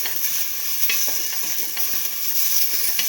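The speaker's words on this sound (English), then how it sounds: "Start and mix the tomato with the salt. Keep on sauteing." Chopped tomato and salt sautéing in a hot pan for a bottle gourd and split pigeon pea rice dish, a steady loud sizzle and hiss with faint stirring scrapes close by, no voices.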